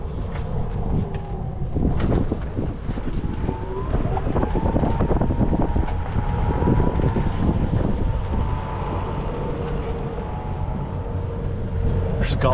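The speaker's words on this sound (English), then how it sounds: "We're going to jump on the golf cart and go for a little ride to the local Publix." A golf cart ride outdoors on the way to a local Publix: a steady rumbling motor and rolling tires under buffeting wind noise on the microphone, continuous and close throughout.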